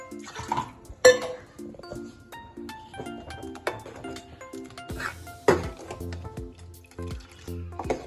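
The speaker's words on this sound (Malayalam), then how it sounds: "ഇച്ചിരൂടെ വെള്ളം ചേർക്കാം" Water is poured into a pot of ash gourd curry, with irregular splashes and drips, metallic clinks of the pot and utensil, and a quiet voice now and then.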